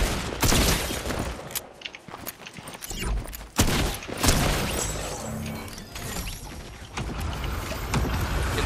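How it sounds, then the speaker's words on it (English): Rapid bursts of video-game gunfire in Fortnite Reload, with clicking mechanical weapon sounds, fill a busy battle mix at steady loudness with no speech. "We're just getting shot."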